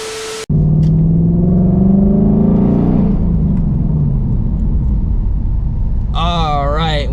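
A 2024 Ford Mustang GT fires up and settles into a loud, deep idle, starting with a rising rev, then a steady rumble up close; a brief whistly tone is heard near the end.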